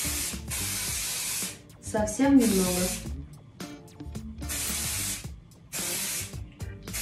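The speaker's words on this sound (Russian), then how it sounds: "Распыляю его издалека," A hair shine spray hisses from a distance in several sharp bursts separated by short gaps, with someone speaking briefly between sprays.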